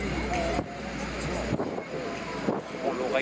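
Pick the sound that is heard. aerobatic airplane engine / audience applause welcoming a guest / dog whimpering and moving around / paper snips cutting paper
aerobatic airplane engine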